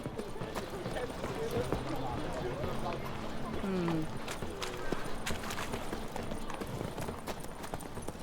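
Geralt's horse Roach gallops in The Witcher 3, a steady clip-clop of hooves under continuous game noise, with voices talking over the hoofbeats and a brief whinny-like tone in the middle.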